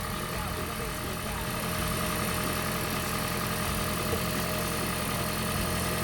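A Toyota Prius 30 hybrid engine runs steadily after calibration with its revs settled, giving a continuous idling drone with a faint mechanical vibration. The hum is close and loud, with no pauses.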